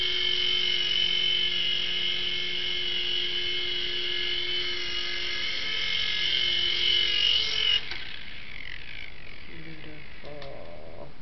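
A small RC helicopter flies with a high, whining buzz of rotor and motor close by. The pitch shifts as it comes down to land, then the whine drops away, with a few faint voices near the end.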